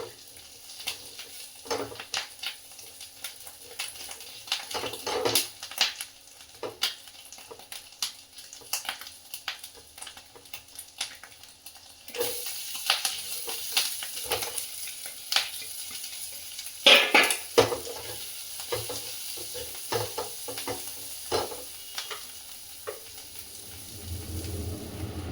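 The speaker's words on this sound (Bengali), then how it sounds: "তোমরা যখন চাউ করবে লঙ্কাটা একটু ভালো করে ভেজে নেবে, কাঁচা লঙ্কাটা" Green chilies frying in a pan for chow mein, a faint hiss with scattered clinks and scrapes of a utensil against the pan, growing louder and busier in the second half.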